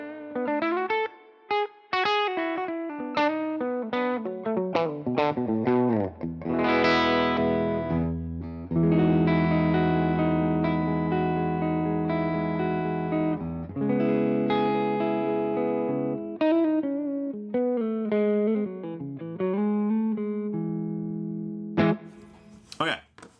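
Electric guitar played through Native Instruments Guitar Rig 6 with a long silver plate reverb, sustained chords and single notes ringing into a lush, smooth tail, loud and close with no talking.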